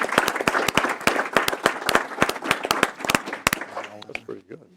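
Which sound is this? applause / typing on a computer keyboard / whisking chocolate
applause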